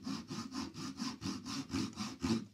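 A hand saw rasps through plywood in a steady back-and-forth rhythm, about ten quick even strokes, close and fairly quiet.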